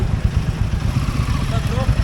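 A Royal Enfield Himalayan 450 motorcycle engine rumbles nearby with a steady, low, pulsing putter, and faint voices are mixed in.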